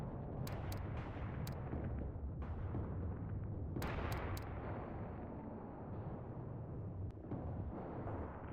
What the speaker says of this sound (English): let's send the last of the mortars out now